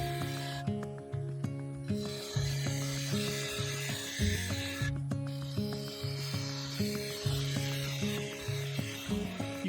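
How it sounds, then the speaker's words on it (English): A bowl gouge shear-scrapes a segmented ash and epoxy resin bowl spinning on a lathe, making a rhythmic rasping scrape with repeated strokes and a steady mechanical hum underneath. No talking. "You can see in this close-up how I shear scrape the surface, shaping the upper part into the side of the bowl"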